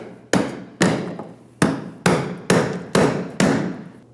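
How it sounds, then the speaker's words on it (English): A hammer drives a brass punch against the fuel pump lock ring on a 2015-2025 Ford Transit-250, seven sharp metallic taps in an uneven rhythm, each ringing briefly before the next. "So I'm using my hammer and brass punch."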